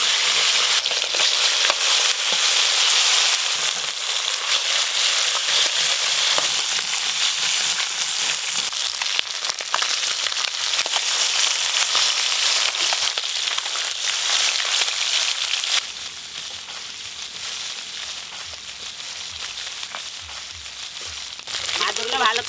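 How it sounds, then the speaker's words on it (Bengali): Small river tangra fish fry in hot mustard oil with a dense, continuous sizzle and crackle. The sizzle stays loud throughout, then eases slightly partway through as the frying settles. "এবার মাছগুলো ভেজে নেব।"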